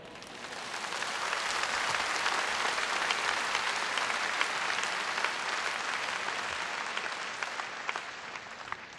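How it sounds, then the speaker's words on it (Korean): Steady applause from a large church audience at a diaspora gathering, broad dense clapping that swells in and holds evenly throughout with no speech over it. "You're clapping"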